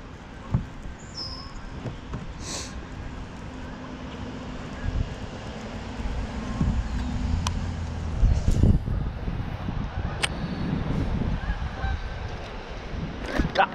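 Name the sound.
bird calling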